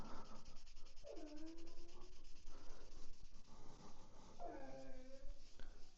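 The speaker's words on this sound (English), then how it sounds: "Excuse that noise, that's my dog." A dog moans in two drawn-out, falling whines behind steady rubbing and buffing of a copper sheet being polished into a mirror, with the animal distant and fainter than the scrubbing.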